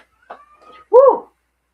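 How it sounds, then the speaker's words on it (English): A house cat meows once, a short clear rising-and-falling cry close by, after a few faint squeaky sounds in an otherwise quiet room. "Can you guys hear my cat meow?"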